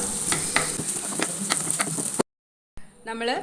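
Chopped garlic sautéing in a hot pan, a steady sizzle with stirring scrapes for about two seconds before a brief silence, then the frying resumes more faintly with a voice over it.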